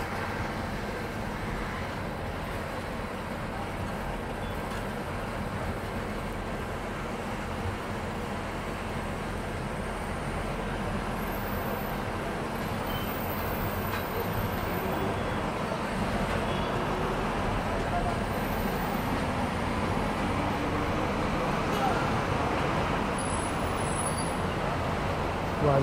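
A Maharashtra State Transport bus runs along the highway near Panvel with a steady low engine drone and road rumble, a continuous cabin-level roar that holds even throughout.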